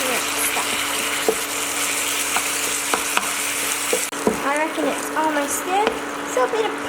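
Beef sizzling and frying in a pan for gimbap, a steady crackling hiss throughout with clicks of stirring and scraping, and a voice talking over it in the second half.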